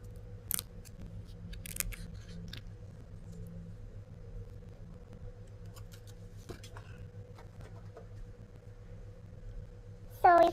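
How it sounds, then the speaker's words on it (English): Protective plastic film peeled off a new Samsung Galaxy Z Fold 7 foldable phone, with faint crinkly rasps over a steady low room hum and a louder, brief tearing rustle right at the end. "So let's peel off the plastic."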